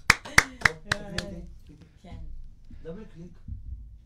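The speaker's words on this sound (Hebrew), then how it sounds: "טל מקבל הכי הרבה כפיים פה היום" A handful of sharp hand claps in quick succession at a radio show, then the clapping stops and people talk.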